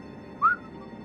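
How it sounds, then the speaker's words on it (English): A single short whistled note from a person, rising slightly and lasting about a tenth of a second, clear and close over a quiet hum of background game audio. "I'm whistling, but that's me, innit?"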